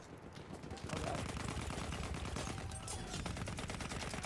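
Rapid automatic gunfire in the Battlefield 1 video game, a dense stream of sharp shots that starts about a second in and keeps going, fairly quiet overall and mixed with game noise.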